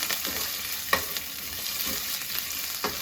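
Curry leaves crackle and spit in hot oil, a steady close sizzle broken by sharp pops at irregular intervals.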